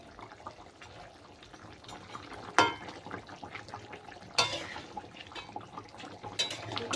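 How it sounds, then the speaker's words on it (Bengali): A thin rohu fish curry with coriander leaves simmers in a pot, giving a soft, steady bubbling and gentle sizzle with two sharper clinks or stirs partway through, fairly quiet and with no talking. "লবণটা দিয়ে একটুখানি ভালো করে ফুটতে দিতে হবে"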